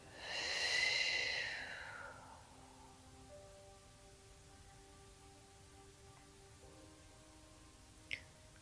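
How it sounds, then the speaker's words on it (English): A deep, breathy exhale during guided meditation, loud and close for the first two seconds, then a long quiet stretch with faint soft tones and one brief tap near the end. "you'll hear me taking deep breaths regularly"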